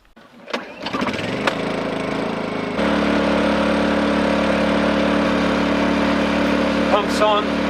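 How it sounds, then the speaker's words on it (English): A small engine-driven water pump on an off-grid shed and cabin bathroom plumbing setup cranks, catches and settles into a steady, loud drone, running continuously with some faint clanks and a brief voice near the end. "Pump's on."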